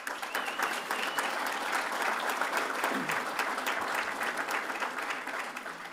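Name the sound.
applause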